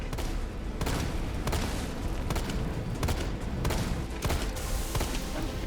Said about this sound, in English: Grenade rounds